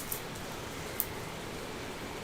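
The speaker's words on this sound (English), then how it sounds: "I think it's raining again. I don't know if you can hear it raining. It's pouring right now." Heavy rain pours down outside as a steady, dense hiss with no clear pauses, plus a couple of faint sharp ticks.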